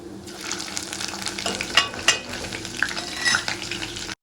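Mustard seeds, cumin and spices sizzling and crackling in hot oil in a pan, a close, busy hiss with scattered pops and light metallic scraping that cuts off abruptly at the end.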